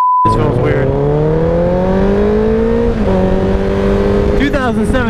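A 2017 Honda CBR1000RR motorcycle revving hard while riding, loud and close, its engine pitch climbing through the gear with a shift near the midpoint and a quick throttle blip at the end.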